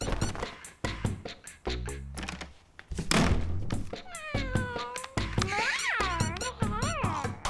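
A cartoon cat gives several drawn-out, wavering meows, some rising and falling, mixed with sharp thunks and knocks in a busy animated scene.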